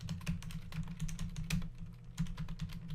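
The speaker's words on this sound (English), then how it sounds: "I don't get to say because Brendan's already typing" Rapid clicking keystrokes on a computer keyboard, close and fairly quiet, in uneven bursts of taps over a low hum, with no talking.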